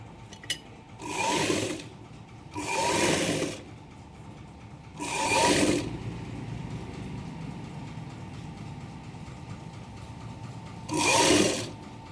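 A sewing machine stitches a lined blouse in four short bursts, each about a second long, separated by pauses, close and fairly loud with no talking.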